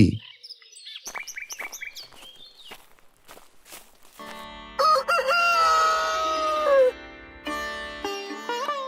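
A cartoon rooster crows in a long, loud cock-a-doodle-doo near the end, preceded by scattered clucks, clicks and light animated footstep sounds.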